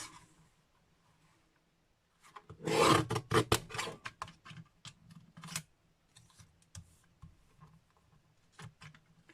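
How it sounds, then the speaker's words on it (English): A small paper trimmer slices cardstock into a strip, a burst of scraping, rasping cuts and clicks close by, then lighter intermittent scratches and taps as the paper is handled. "I'm just going to cut the cardstock into a strip"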